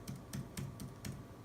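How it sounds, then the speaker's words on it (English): Steady typing on an Acer Chromebook 14 (2016) laptop keyboard, five or so clear, crisp key-click bursts spaced evenly, close and distinct over a quiet background with no talking. "I feel like I can type a lot faster on this keyboard than on other laptops I've used"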